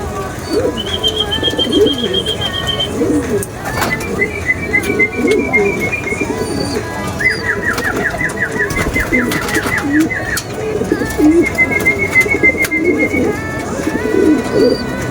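Racing pigeons coo steadily at a loft, low throaty calls repeating in overlapping waves, with occasional whistles and chirps from other birds throughout.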